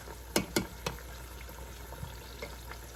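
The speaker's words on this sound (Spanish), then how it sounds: "Los vamos a seguir sofriendo aquí un poquitito más." Plantain slices for tostones fry in hot oil, a faint low sizzle under a few sharp nearby clicks and taps early on, then softer scattered ticks.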